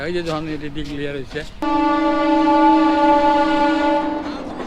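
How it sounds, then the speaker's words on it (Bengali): A train passing near the India-Bangladesh border sounds a long, loud, steady horn blast close by after a brief stretch of rumbling, with people talking nearby. "ট্রেন যাচ্ছে"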